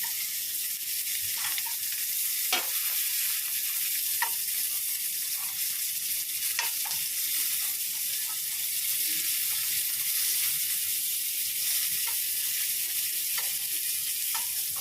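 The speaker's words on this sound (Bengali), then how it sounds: "দেখো ডালটা নামিয়ে একটু পটল ভেজে নিচ্ছি" Slices of pointed gourd fry in a little oil in a pan, giving a steady, close hiss of sizzling with a few faint clinks and stirs, no voices.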